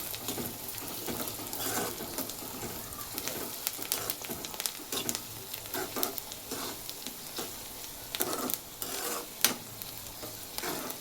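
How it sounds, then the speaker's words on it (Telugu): Green chillies frying in a pan for an ivy gourd and egg fry, a steady close sizzle broken by repeated scraping taps of a stirring spoon, with no voices. "పచ్చిమిర్చి ఒక నిమిషం పాటు వేయించుకున్నాము"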